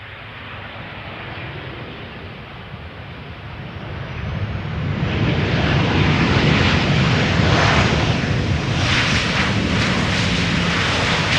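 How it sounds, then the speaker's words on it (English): Transavia Boeing 737-800 PH-HZO, 17 years old, comes in to land on Schiphol's Polderbaan, its jet roar swelling from a moderate rumble to a loud, sustained rush of engine and wind noise. "Transavia flight 6918 returning from Olbia. 737-800, the PHHZO, 17 years old,"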